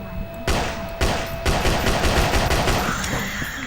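Rapid automatic gunfire in the horror video game Slenderman Must Die: a loud close burst of repeated shots, several sharp reports in quick succession over game ambience.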